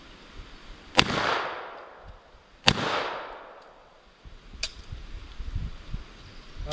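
Three sharp reports from a semi-automatic MPA Defender Mac 11 pistol, two loud shots about a second and a half apart with long decaying echoes, then a fainter third crack, fired outdoors at a range.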